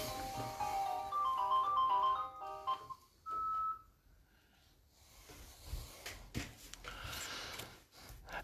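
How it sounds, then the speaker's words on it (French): A landline telephone rings indoors with a warbling electronic melody for a few seconds, followed by a short steady beep and then soft rustling and movement noises. "Bon, le téléphone fixe."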